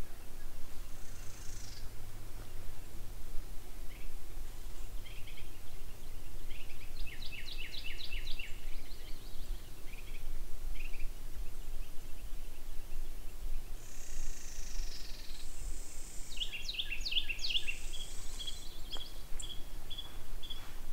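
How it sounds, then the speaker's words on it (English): Several birds chirp and trill in short bursts at Buescher State Park, Texas, over a soft, steady outdoor background hum, with bright calls scattered across the stretch. "listen to the birds for just a minute."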